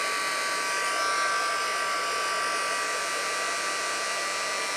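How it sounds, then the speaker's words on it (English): A handheld heat tool blows a steady, buzzing whir while melting embossing powder on a card, continuous and moderately loud at close range with no pauses. "I'm just pointing the heat towards the powder, and what it's doing is it's melting that powder."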